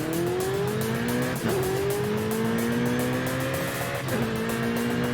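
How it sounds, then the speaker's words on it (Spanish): Ferrari 488 racing in the video game Forza Horizon 5, its engine note climbing steadily through the gears with two quick shift dips, loud and continuous with faint tire noise. "Joder, Ferrari 488, qué barbaridad. ¿Cómo corre?"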